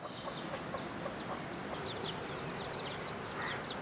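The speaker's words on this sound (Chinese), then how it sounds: "很久没有看到这样的场景了，老母鸡带小鸡。" Outdoors at a mountain settlement, a mother hen leads her chicks, giving soft low clucks among thin, high peeping chirps. The sound is faint and distant over a steady background hiss.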